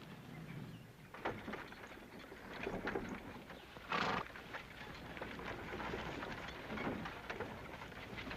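Horses shift and stamp after their riders dismount in a 1959 Western TV scene, with muffled hoof thuds and a rough outdoor rumble and no speech.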